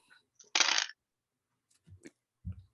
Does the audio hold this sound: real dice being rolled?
yes